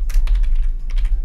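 Fast, close clattering of keys being typed on a computer keyboard during a geography quiz game, a quick burst of clicks with no talk.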